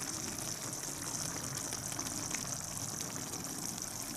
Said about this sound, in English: So just let it simmer in the wine until it basically evaporates.